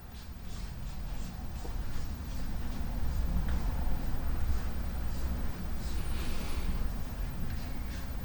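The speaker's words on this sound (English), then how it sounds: "Sorry for the noise in the background. Neighbor's power washing his car." A steady broadband hiss and rumble of a neighbor's pressure washer spraying a car somewhere in the background, constant and moderately distant with no voices.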